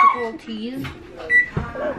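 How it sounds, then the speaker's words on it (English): A microwave oven heats a batch of slime, its hum and a short beep sitting under close, overlapping talk from people in the room. "Now we're gonna add it into the microwave."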